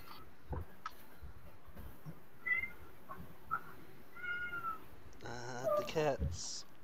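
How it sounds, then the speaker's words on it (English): Cats meowing repeatedly in rising and falling cries, with a burst of overlapping meows near the end, over a murmur of background voices. "Cats."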